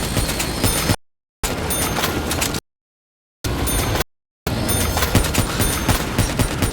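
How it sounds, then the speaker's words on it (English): Loud, dense automatic gunfire in the video game Black Ops 3, rapid bursts of shots and booms in several long runs separated by abrupt silent gaps. "That's some fine shooting, Nikolai."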